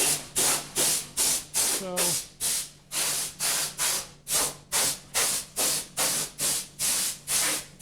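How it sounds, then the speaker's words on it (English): A compressed air hose on a Haas Mini Mill CNC machine blows chips off machined parts in repeated short hissing blasts, about a dozen in quick rhythm, loud and close, with a brief spoken word. "Very convenient having the air hose right here on the machine."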